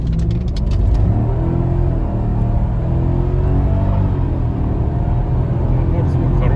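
A Mercedes W211 E500 swapped to an M113 V8 from an S500 W220 accelerates hard, its deep engine note rising steadily in pitch as a loud, close drone, with voices faintly present.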